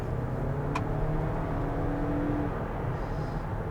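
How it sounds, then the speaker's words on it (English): Toyota Highlander seven-seater accelerating hard, a close steady engine drone with a low CVT whine rising beneath it. "it still has that kind of CVT whine, but it's a bit deeper."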